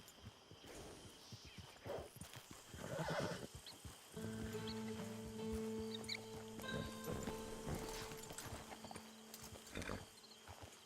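In the video game Red Dead Online, a horse whinnies and its hooves clip-clop at a modest level, alongside a soft tonal musical backdrop.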